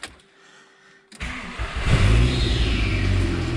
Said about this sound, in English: if I start the engine